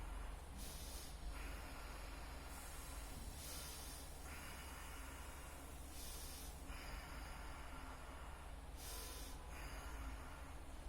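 Slow breathing exercise heard over a steady background hiss: four soft, drawn-out exhales repeat at an even pace, faint and close, with no talking.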